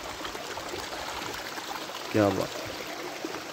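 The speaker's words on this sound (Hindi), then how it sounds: "छोटे छोटे झरने, आबशारें, नदियाँ, नाले और ये कुदरती सब्ज़ा।" Small mountain streams and waterfalls in Khaplu valley, Pakistan, a steady outdoor rush of flowing water heard at moderate distance, with someone briefly speaking over it.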